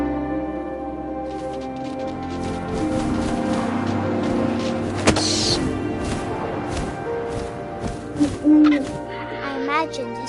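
An owl hoots in the video game What Remains of Edith Finch, over wind and a tonal music bed, with the hooting standing out clearly in the mix.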